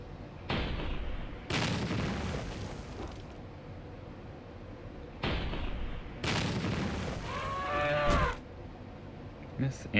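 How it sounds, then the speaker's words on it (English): Shotgun blasts from the video game Battle Nations: several loud, broad booming bursts with long noisy tails, spaced a few seconds apart over a low game background. "Miss, and shotgun to the face."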